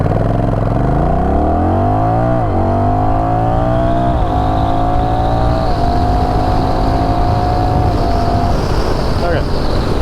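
Honda Rebel 1100 motorcycle accelerating hard from a standstill on a 0-60 run, the engine note climbing steeply through several gear changes with brief dips between shifts, loud and close under heavy wind rush.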